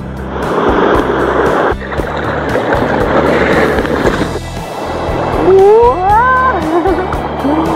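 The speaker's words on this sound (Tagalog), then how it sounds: "Lakas ng alon." Strong sea waves break against a rocky island shore, a loud continuous wash of surf with surges, joined later by a rising tonal whine over the water.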